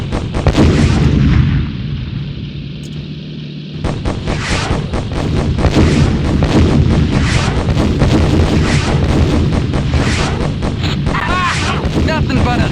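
Aircraft guns strafing targets in the video game Beyond Pearl Harbor, a dense loud run of rapid gunfire and booming blasts over a continuous engine roar, with a short lull early on.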